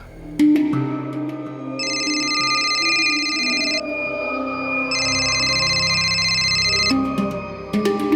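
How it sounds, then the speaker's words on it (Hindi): An electronic ringtone trills in two long bursts separated by a pause, playing over a continuous music bed and no one picking up. "नैना फोन क्यों नहीं उठाती है यार?"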